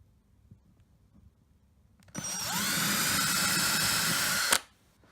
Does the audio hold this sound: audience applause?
no